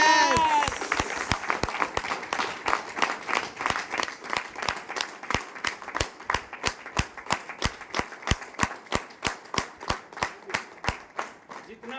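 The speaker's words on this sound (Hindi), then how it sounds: "ताली बजा लो, दिस इज आरसीएम।" Audience applause at an RCM motivational talk, a long run of sharp, evenly spaced claps that settle into a steady rhythmic beat, loud and close, with a voice briefly heard at the start.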